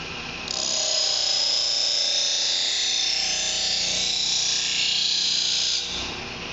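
A knife is sharpened against a spinning waxed compressed paper wheel, giving a loud, continuous high hiss and whine over a motor hum for about five seconds.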